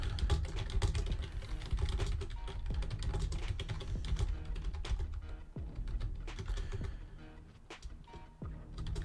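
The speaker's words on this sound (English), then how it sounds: "Let me type this chat poll." Computer keyboard typing, a steady run of keystrokes buried under a loud, dense music-like background bed, with the clicks only faintly standing out through the mix.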